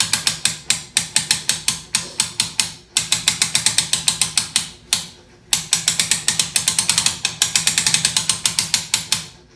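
Homemade draw-board bow press ratcheting as it is engaged, a steady run of sharp mechanical clicks in quick rhythmic bursts with brief pauses between strokes, loud and close with no talking.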